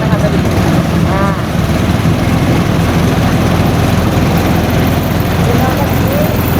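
A small MBI PT 500 rice thresher engine runs steadily at a mid-to-high throttle setting, a continuous loud low drone that fills the whole stretch while a person talks over it.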